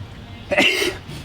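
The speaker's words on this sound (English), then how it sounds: "I just sneezed all over myself" A single short, sharp sneeze bursts out close by against a quiet background, during work on a C3 Corvette restomod.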